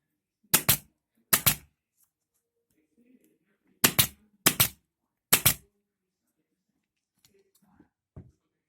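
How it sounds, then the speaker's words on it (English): A staple gun fires into chair webbing, five sharp loud snaps in pairs and singles with brief pauses, followed by faint handling noise and one softer click near the end. "So then I'm just going to staple this in place."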